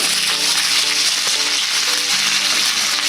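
Chopped big onions sizzle loudly and steadily in a hot pan of oil, cooked as the base for chicken biryani; the dense, continuous frying hiss fills the scene with no voices.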